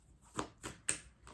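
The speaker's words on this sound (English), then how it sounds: "If you find the shuffling therapeutic, that's great." Tarot cards being shuffled make three soft, quick swishing bursts, spaced apart and quiet, with no talk.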